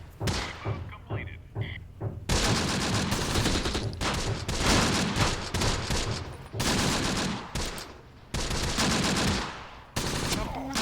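Close Combat video game battle in Sicily, with machine gun fire from an M5A1 light tank: loud sustained bursts of rapid gunfire with brief pauses, dense and close, a voice speaking faintly underneath.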